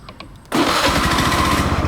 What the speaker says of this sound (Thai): เดี๋ยวลองฟังเสียงเครื่องดูนะครับผม เดี๋ยวสตาร์ทดูค